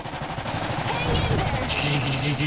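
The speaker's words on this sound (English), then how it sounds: "Machine guns are so good!" Machine guns rattle in the Iron Harvest strategy game, a dense continuous burst of gunfire filling the whole stretch with battle noise and game effects underneath.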